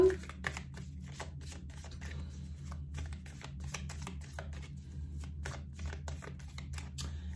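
Oracle cards being shuffled for a reading, a steady run of quick, soft riffling taps repeating close by at low volume over a faint background hum.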